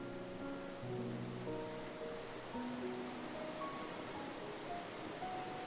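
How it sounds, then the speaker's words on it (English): Loud, steady rushing of a waterfall in a video game, a broad continuous wash of water noise with faint tonal music lines layered through it and no talking. "Because I hear that waterfall and I'm like,"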